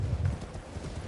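Horse hooves in Elden Ring: a few muffled, low thudding hoofbeats in an uneven gallop rhythm, heard under a steady rumbling background with no speech.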